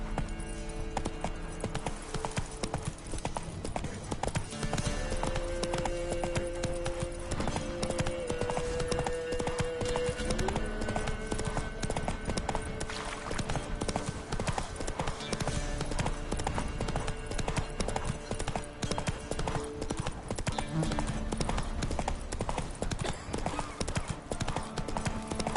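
Roach the horse trotting in The Witcher III, a steady rhythmic clip-clop of hooves throughout, mixed with continuous game ambience and some talk.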